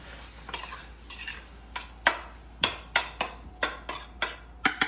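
A pan of peanut sauce dish is tossed and stirred on the stove, with a utensil scraping and clacking against the pan in a steady series of sharp strokes. A faint sizzle runs underneath.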